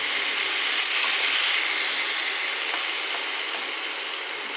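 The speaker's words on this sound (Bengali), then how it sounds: "এটাকে ভালোভাবে কষে জলটাকে শুকিয়ে নেব।" Ridge gourd and fish curry sizzles in a pan, a steady, loud hiss of frying that fades slightly toward the end, with faint stirring clicks and no voices.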